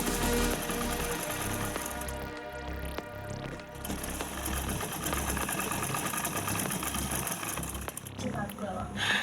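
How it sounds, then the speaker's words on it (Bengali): A sewing machine stitches fabric for a dress with a continuous close mechanical whir and rattle that runs the whole time at an even pace, with brief dips in motor pitch. "এবার এই সাইডে একই সাইডে আরও একটা সেলাই দিয়ে নিব"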